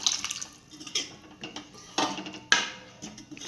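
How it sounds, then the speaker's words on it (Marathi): Steamed drumsticks and their cooking water tipped into a pan of red masala, heard as a few distinct splashy pours and clattering knocks against the pan over a few seconds, close and fairly quiet. "आता आपण याच्यामध्ये जे उकडलेले आपल्या शेंगा होत्या त्या आणि त्याचं पाणी जे होतं ते टाकून घेऊया."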